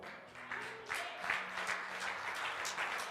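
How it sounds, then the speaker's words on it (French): Church congregation applauding for mothers, a sustained wash of many hands clapping at a steady level, with a faint hum of voices beneath. "Acclamez pour les mamans."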